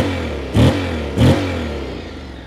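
A Honda X-ADV 750 scooter engine idles steadily, then gives two quick, loud throttle blips that fall back to a smooth idle.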